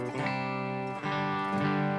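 An electric guitar plays a gentle crunchy tone through a Red Seven Leviathan preamp with a Line 6 Helix, sounding as sustained, slightly distorted chords that are re-struck about three times, close and clear with no talking.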